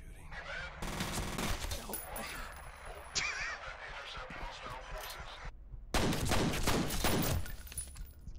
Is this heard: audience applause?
no